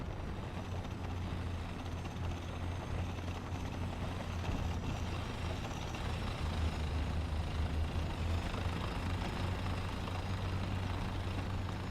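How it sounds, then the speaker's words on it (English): Tank engines in War Thunder rumble as a steady, low droning growl with a faint mechanical hum, continuous and fairly quiet throughout. "Why do half of these tanks sound like toys?"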